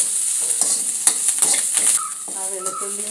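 Garlic, ginger and curry leaves frying in hot oil give a steady, close sizzle with a few stirring scrapes, and a brief tonal chirp breaks in near the end.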